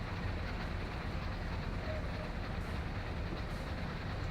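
Freight train of 160 loaded cars rolling in the Train Sim World 4 game, a steady dense rumble with faint wheel clatter, continuous and fairly loud throughout with no talking.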